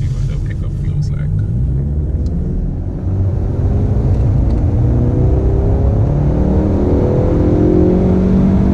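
A 2016 Ford Mustang EcoBoost with a turbocharged four-cylinder engine accelerates hard, its loud rumbling drone rising steadily in pitch as it pulls through the rev range, heard close from inside the car.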